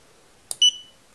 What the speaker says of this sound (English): If you flip this up, you have 100 watts and it gives two very loud beeps.